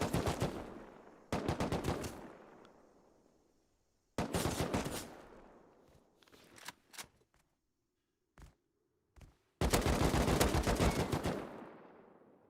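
Close, loud bursts of automatic gunfire come in three long rapid volleys, with a few isolated single shots and quiet gaps between them.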